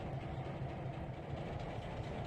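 Train running in the Trainz 2022 railway simulator gives a quiet, steady rolling rumble of wagons with a faint rhythmic clatter, alone and without talk.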